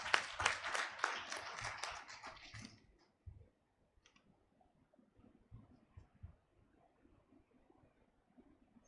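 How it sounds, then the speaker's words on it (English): Audience clapping in a hall to welcome a speaker at the launch of a population report, a short burst of brisk applause lasting about three seconds that fades, followed by faint room noise and small knocks. "Let's welcome him with a round of applause."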